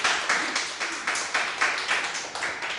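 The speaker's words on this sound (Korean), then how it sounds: "자, 박수." An audience at a high school science information session claps steadily to welcome a physics teacher. The moderate, evenly pulsing claps continue with no talk over them.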